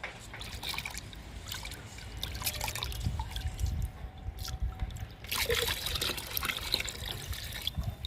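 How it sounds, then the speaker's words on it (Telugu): Fermented rice water pours and trickles into a container of water to dilute it for a homemade liquid plant fertilizer, a steady, close, moderately loud watery splash and dribble lasting several seconds with no talking. "ఈ వాటర్లో డైల్యూట్ చేసుకుందాము."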